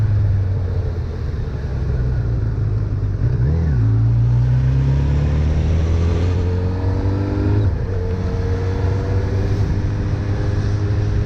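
Honda CB 1000R motorcycle idling and pulling at low revs, a steady close engine rumble that dips and swells mid-clip and then holds an even, smooth tone, with no voices.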